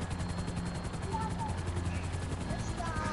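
A video-game helicopter touching down on a yacht, its low rotor drone steady and droning throughout, with voices talking over it.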